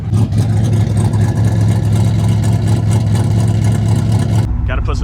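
A Corvette with an LS V8 running on E85 roars at full throttle, a loud, sustained engine drone close by that holds steady for several seconds, then cuts off abruptly near the end.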